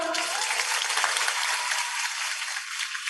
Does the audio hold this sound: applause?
yes